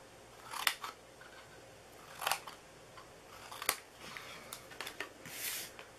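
Scissors snip through paper while trimming slivers off a small treat bag, several crisp separate cuts spaced irregularly, close and fairly quiet in a calm room with no talking.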